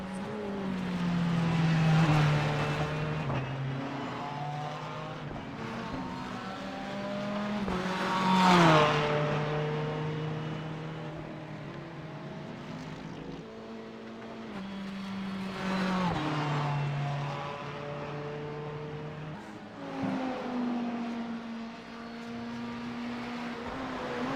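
Race car engine in the iRacing sim at Spa during a 24-hour endurance event, droning steadily with rising and falling pitch through gear changes and a loud revving peak midway, continuous and close onboard.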